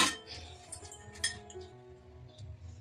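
Kneaded dough being covered in a kitchen, a few light clinks of glass or a metal lid being set down, close and brief.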